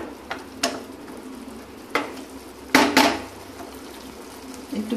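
Bhindi masala simmers in a pan with a soft, steady sizzle, broken by several sharp clinks and scrapes of stirring.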